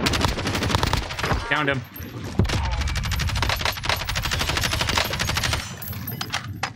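Video game gunfire from guns mounted on a tower, heard as loud rapid automatic bursts and repeated shots nearly throughout, with players talking over it.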